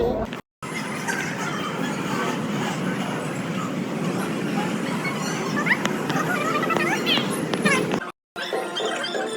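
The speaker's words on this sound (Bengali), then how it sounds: "ঘুম স্টেশন থেকে আমাদের টয় ট্রেন যাচ্ছে ছোট্ট" A small toy train pulling away from Ghum station rumbles steadily with occasional thin wheel squeals over a broad noise bed. People talk throughout, and the sound cuts out briefly near the start and the end.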